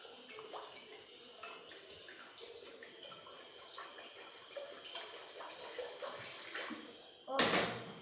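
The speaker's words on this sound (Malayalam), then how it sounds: "നമുക്കിനി കുറച്ച് തണുത്ത വെള്ളം ഒഴിക്കാം" Cold water is poured into a vessel during home cake preparation, a steady continuous splashing that runs throughout and ends in a louder, brighter gush, with faint voices in the background.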